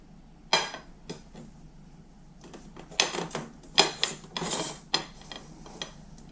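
Hard clinks and scrapes of a plate and metal springform cake ring being set down and handled, a few sharp knocks with quiet pauses between, close by.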